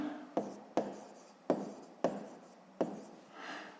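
Pen or chalk writing a number during a sixth-grade maths lesson: five sharp taps of strokes, each trailing into a short scratchy drag, then a softer rubbing stroke at the end, close and alone without talk.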